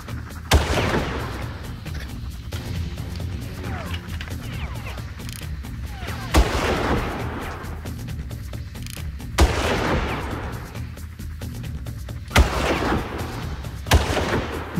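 Gunfire in the shooter game Far Cry: heavy, booming shots fire at irregular intervals, some in close pairs, over a rumbling game background with no talk.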